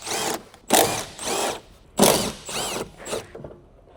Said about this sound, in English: Use the 13 mm deep socket with the impact gun to remove the ground strap nut from the strut tower mounting nut.